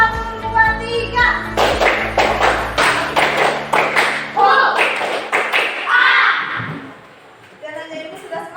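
A class group performs rhythmic spirit clapping, sharp sets of hand claps in quick patterned bursts, close and loud, interleaved with chanted counting voices and children's talk.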